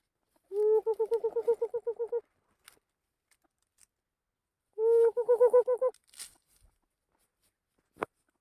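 A jungle fowl gives two loud pulsed calls a few seconds apart, each a quick series of harsh notes, in otherwise quiet surroundings.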